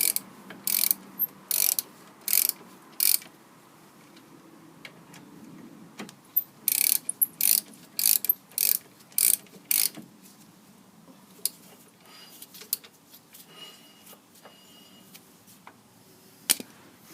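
A hand ratchet winds in the wheel bolts on a Toyota Aygo during a brake pad and disc change, with quick bursts of close, crisp clicking repeated many times between short pauses.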